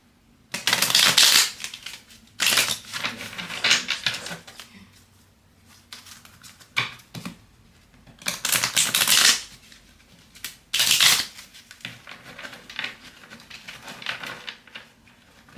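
Bursts of cards being riffled and shuffled, several rounds separated by brief quiet pauses, close and fairly loud with no talking.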